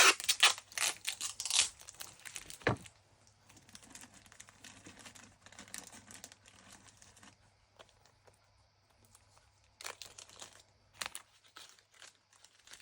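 An electronics assembly is packed into a cardboard box and wrapped with tape, heard as close crinkling and scraping handling noises in scattered bursts over a faint steady low hum.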